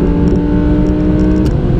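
A V10 sports car engine, an Audi R8 V10 Plus or Lamborghini Aventador S, revs hard on a race track, a loud, steady, rising engine roar that fills the whole moment with no talk.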